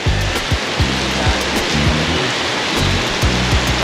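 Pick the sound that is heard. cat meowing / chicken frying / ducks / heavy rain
heavy rain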